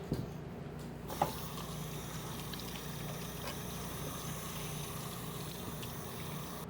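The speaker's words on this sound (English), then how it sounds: "I'm gonna wash my hands." Tap water running steadily at a sink during hand washing, a continuous even rush with a small knock near the start.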